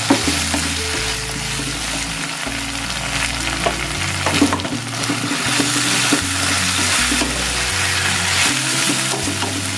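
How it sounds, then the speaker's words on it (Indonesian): Grilled gourami fish sizzles loudly in a hot pan while being stirred, a continuous crackling fry with occasional scraping, over a low steady background hum. "Aduk-aduk."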